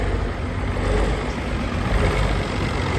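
A David Brown tractor engine runs steadily at close range, a continuous low diesel rumble with no change in pace and no voices.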